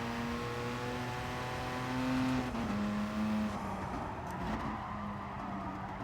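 A race car engine drones and revs while drifting in the GT Sport racing game, a loud sustained tone that rises and falls with the throttle and has faint tire noise underneath.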